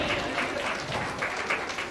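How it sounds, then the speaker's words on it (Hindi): Audience applause at a foundation day celebration for a card company in Rajasthan, heard as a dense, steady wash of clapping throughout, moderately distant and without speech over it. "तालियां बजानी चाहिए"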